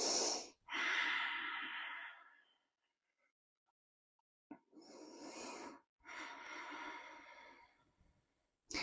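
Slow, deep breaths during a yoga low lunge: a long inhale and exhale, a quiet pause, then two more breaths, close and soft with no talking.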